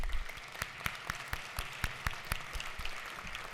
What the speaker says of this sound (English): if we can give a round of applause to the heroes of Appalachia High School